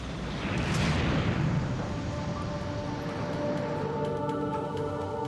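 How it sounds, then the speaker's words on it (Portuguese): A heavy roaring blast from the explosions that destroyed the TWA Flight 800 Boeing 747 after takeoff, a loud broad rumble swelling early then settling into a sustained turbulent roar with crackling debris, no voices. "uma série de explosões destruiu o avião"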